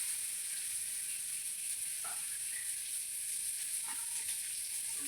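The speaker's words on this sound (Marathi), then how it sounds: "फुटाण्याची डाळ, शेंगदाण्याचं कूट, काजू आणि लसूण पण भाजून घेणार आहे" Chana dal, crushed peanuts, cashews and garlic roasting in a pan, a steady close sizzle and hiss throughout with a couple of faint stirring scrapes.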